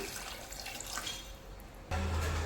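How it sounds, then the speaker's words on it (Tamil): Water splashes and trickles into a pot of cowpea curry, then a louder steady low hum and rushing flow take over near the end. "குழம்புக்கு தேவையான அளவுக்கு தண்ணி விட்டுக்கலாங்க"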